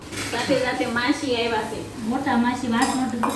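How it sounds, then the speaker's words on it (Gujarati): Pots, pans and steel utensils clink and clatter steadily as dishes are washed at home in the evening, with people talking throughout. "વાસણ ઉટકવા બેહાડી દીધા"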